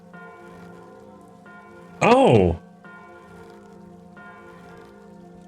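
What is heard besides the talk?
strange bell ringing in the video game Guild Wars 2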